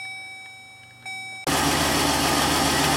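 A car with an LS engine swap and a security system cranks under a sudden loud starter whir after a chime and warning beeps, churning steadily without catching.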